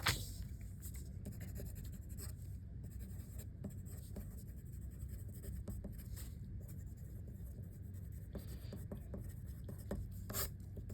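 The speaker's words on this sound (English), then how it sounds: "I'll write some stuff." A marker scratches and rubs steadily across a board in a chemistry lesson on percent composition, a continuous close scraping texture with small squeaky strokes throughout and no talk.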